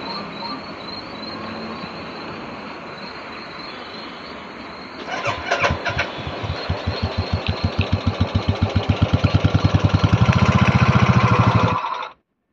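A motorbike, out on a night trip during Ashtami puja in Assam, starts up after a stretch of quiet background noise. It then idles close by with a loud, steady chugging pulse that quickens and thickens before stopping abruptly.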